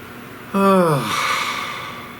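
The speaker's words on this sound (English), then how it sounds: "Please take a nice deep breath." A single deep breath, heard close and clear: a voiced, sigh-like inhale that falls in pitch and then trails off into a softer airy exhale.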